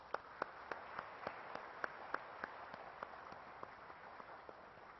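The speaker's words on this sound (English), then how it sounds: "Please join me in giving Professor Giacconi a big round of applause once more." Faint, thin applause from a lecture audience honoring Professor Giacconi, a sparse scattering of distinct claps at a steady pace that slowly tapers off.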